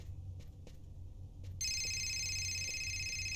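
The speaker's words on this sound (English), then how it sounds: "I can hear a phone." A telephone rings in the video game Fahrenheit: Indigo Prophecy, a steady electronic ring beginning partway through and holding continuously over a low background hum.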